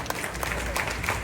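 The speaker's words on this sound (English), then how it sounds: "A round of applause" Ladies and gentlemen at a building topping-out ceremony for The Pinnacle in Montego Bay, Jamaica, applaud in a dense, continuous wash of clapping with no talk.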